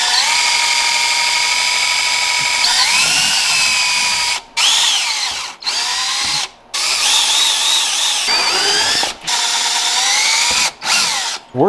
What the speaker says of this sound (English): Now it is time to finally drill the holes for the skid plate.